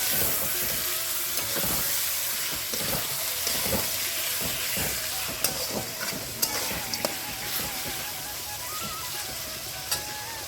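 Bhetki fish head frying in fish oil gives a steady, close crackling sizzle throughout, broken by occasional sharp pops and the scrape of a spatula stirring the pan.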